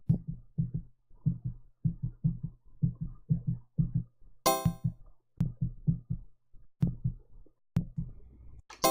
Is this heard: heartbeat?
yes